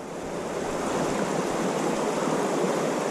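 Fast-flowing water of the Truckee River rushes in a steady, loud broadband roar, close to the microphone with no voices.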